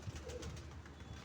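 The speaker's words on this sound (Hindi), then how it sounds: "ये कबूतर होते हैं पिपला वाले" Pigeons of the Pipla kind cooing, soft low throaty coos repeating quietly at close range with faint background noise.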